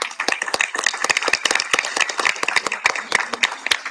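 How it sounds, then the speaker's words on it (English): An awards ceremony crowd applauding steadily, many hands clapping in a dense, continuous patter that stays at an even level throughout. "I want us to do a round of applause for Danny Vargas"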